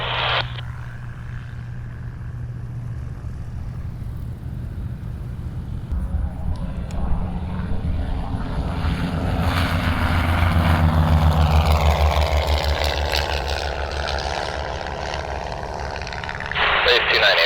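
Propeller race planes roll for takeoff at the AirVenture Cup air race, a steady loud engine drone that swells and builds in pitch, with radio voices calling over it.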